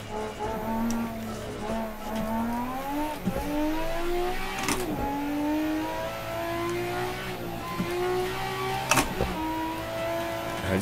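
Simulated race car engine in Assetto Corsa revving hard through gears, rising harmonic sweeps broken by sharp throttle blips on downshifts around 3 s, 4.7 s and 9 s; loud and continuous, no talking.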